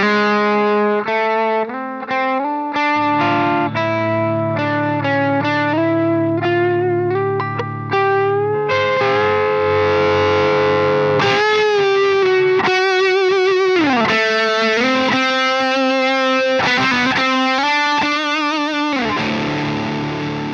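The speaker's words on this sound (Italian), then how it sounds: "con amplificatori molto spinti come questo 5150 basta abbassare la manopola del volume della chitarra e il suono si ripulisce in modo eccellente" An electric guitar played through a Nux Amp Academy NGS-6 pedal into a 5150 amp, a continuous melodic lead line with sustained, gliding notes and a distorted, effect-laden tone, loud and alone throughout.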